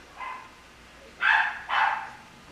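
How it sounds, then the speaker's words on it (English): Three dog barks from somewhere off in the distance: one short bark, then a pause, then two louder barks in quick succession. "if y'all hear these loud ass dogs in the back"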